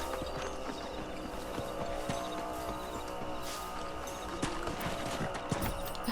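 Horse hooves clip-clop steadily in the Red Dead Redemption video game on PS3, a rhythmic walking gait under low ambient game sound, with a faint whinny in the mix.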